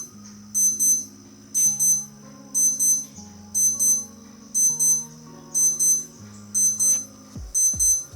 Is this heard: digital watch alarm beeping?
yes